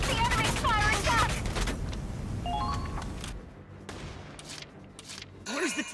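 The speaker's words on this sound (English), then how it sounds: "The enemy's firing back!" Enemy gunfire in Valkyria Chronicles 4, a loud burst of rapid shots and battle noise with voices, then quieter scattered pops and a final sharp blast.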